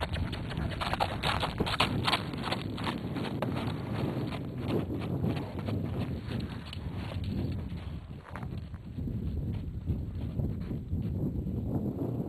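A horse walks during groundwork, its hooves clip-clopping in a steady, close rhythm on firm ground, with light wind and ambient outdoor noise behind.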